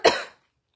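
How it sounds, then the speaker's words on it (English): One short, sharp cough close to the microphone, followed by silence. "It's so rude for me to be coughing while I'm doing this."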